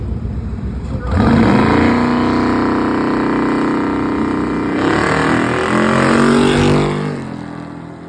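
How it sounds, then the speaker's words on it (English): At a bracket drag race, an LS-swapped turbocharged Volvo wagon launches and accelerates hard, its engine roaring and climbing through gears, loud and fairly close, with faint background chatter. "let's see if he can make it through round 2 with his LS swap turbo Volvo wagon"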